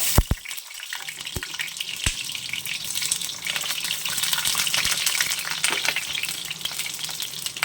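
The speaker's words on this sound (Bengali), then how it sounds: "সেখানে দিয়ে দিলাম সাদা তেল তেল গরম হয়ে গেছে দিয়ে দিচ্ছি পটলগুলো" Pointed gourds dropped into hot white oil, crackling and sizzling close up with a hissing, spattering wash and a few sharp clicks from the pan near the start, no voices.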